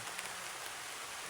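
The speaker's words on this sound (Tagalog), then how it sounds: "sobrang lakas na ng ulan" Heavy rain pouring down outdoors in the Philippines during a search trek, a steady dense hiss of falling water with no voices.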